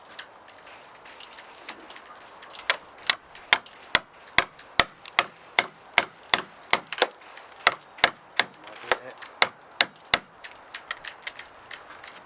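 A hammer strikes out rivets from a wooden yacht about sixty years old. The blows land as sharp, evenly spaced knocks, around twenty in a row, close and clear against quiet background.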